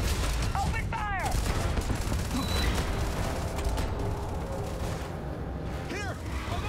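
Sustained volleys of gunfire in a Starfield firefight, a dense continuous rattle of shots with metallic mechanical clatter and brief shouted voices mixed in throughout.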